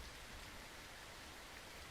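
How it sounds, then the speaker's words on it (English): Steady rain falling in the video game Fallout London, a faint, even hiss of rainfall with no voices. "Oh look, rain. Is that radioactive rain?"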